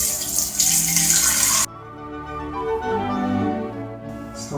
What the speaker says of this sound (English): now I'm going to pour it into this vase because it's nice and long and thin.